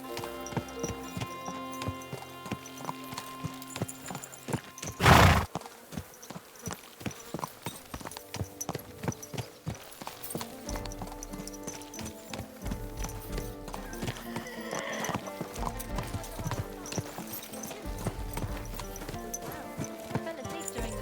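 Horse hooves clip-clop steadily and close by in the medieval Bohemian world of Kingdom Come: Deliverance II, joined by a whinny and background music, with no talk over them.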